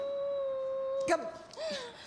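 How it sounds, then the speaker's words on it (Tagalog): A big poodle lets out a long, steady howl that breaks off, followed by a short whining yelp, fairly close. "Aso pala yung package, tapos malaking aso pa."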